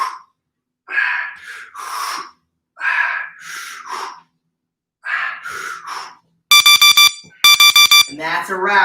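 Speech in short bursts, then an electronic workout timer alarm beeps in two loud, rapid, pulsing rounds before talking resumes.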